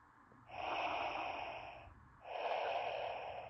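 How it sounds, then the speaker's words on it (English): Two long mechanical breaths, a drawn inhale and then an exhale, with a hissing, electronic quality like a toy's sound effect, heard alone; the Darth Vader breathing effect from a LEGO Smart Brick on the Darth Vader's TIE Fighter 75421 set. "There's some breathing. It's very robotic."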